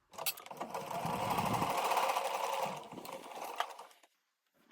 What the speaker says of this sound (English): So line this up and we can start sewing.